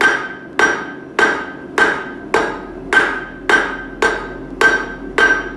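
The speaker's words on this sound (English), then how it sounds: "Using the horn just to bust the material down real quickly." Metal is hammered on the horn of an anvil while forging a scroll, with about nine loud, ringing blows at an even, unhurried pace and no talking.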